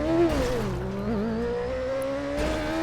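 Motorcycle engine droning steadily while riding in the GTA video game, with shifting pitch from acceleration and a continuous close, loud tone for the whole stretch.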